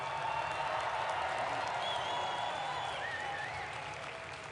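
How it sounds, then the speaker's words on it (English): Distant crowd applause for military families at the inaugural Commander-in-Chief Ball, a faint, steady wash of clapping and murmur from a large hall. "Can you please join me in a round of applause for our military families?"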